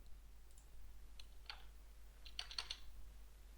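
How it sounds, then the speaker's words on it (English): Soft, sparse clicks of someone typing a search phrase on a computer keyboard, coming in small irregular clusters against a quiet low hum. "You just type it in"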